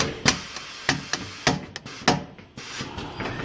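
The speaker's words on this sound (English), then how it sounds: "you could take it to the vise and use the vise as a dolly and flatten it out with that hammer" A hammer strikes a metal part held in a vise used as a dolly, flattening it with about six sharp, evenly spaced blows, close and loud, with brief quiet between hits.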